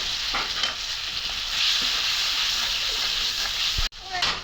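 Spice paste with turmeric and chili fries in a pan with a steady, close sizzle, broken by stirring scrapes and a sharp clank near the end, while a voice speaks softly.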